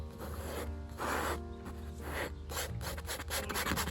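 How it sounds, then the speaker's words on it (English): Oil paint scraped and smeared across canvas with a palette knife, a run of close, soft rasping and rubbing strokes in irregular bursts, with no talking. "I started just adding random strokes in with my palette knife"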